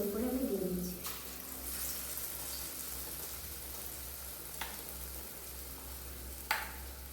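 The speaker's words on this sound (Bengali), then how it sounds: "এক এক করে তেলের উপরে আমি দিয়ে দিচ্ছি।" Besan-coated eggplant slices drop one by one into hot oil, setting off a continuous frying sizzle with a few sharp crackles and pops, close and steady.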